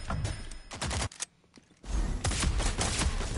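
Rapid gunfire from a gun in the video game Rogue Company, a loud burst, a brief lull with a few isolated shots, then another sustained volley of shots close up.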